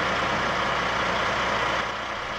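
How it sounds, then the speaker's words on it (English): Vacuum pump on a truck running for an oil drum vacuum head, giving a steady, loud broadband roar with a low engine rumble beneath and no other sounds over it. "Start the vacuum pump on your truck."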